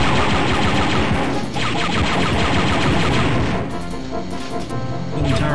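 Turrets in the Star Wars: Dark Forces video game let loose a dense, continuous barrage of rapid blaster fire, loud and close, with crashing impacts layered throughout and no pause.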